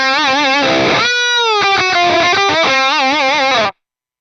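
A distorted electric guitar plays through an Atomic Amplifire running the Archon amp model with the mids turned all the way up, giving a loud, saturated lead with sustained notes and chugging phrases that stop abruptly near the end.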